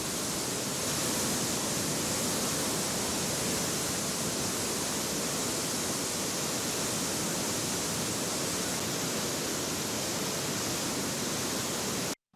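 Floodwater released from the Hammagi bridge-cum-barrage into the Tungabhadra river roars as a dense, unbroken rush, loud and constant throughout with no voices.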